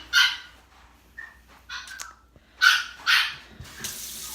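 A small Yorkie Bichon Frise dog gives a few short, sharp barks near the microphone during a bath, with water running from a tap in quiet patches between the bursts.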